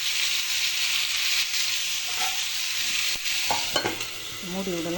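Tomatoes sauté with salt in a covered pan, giving a steady, close sizzling hiss with light stirring scrapes and a few clinks of a utensil against the pan near the end.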